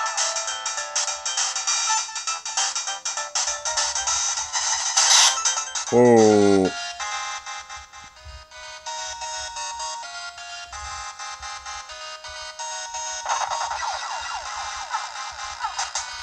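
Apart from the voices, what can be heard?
Sega Mega Drive video game audio on Android emulator, sounding wrong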